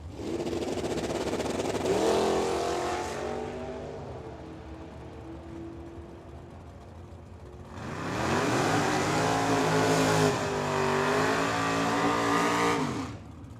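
Drag racing cars at Firebird Motorsports Park, a Mopar in one lane, roar down the track in two loud bursts of revving engine with a quieter rumbling lull between them, heard from trackside.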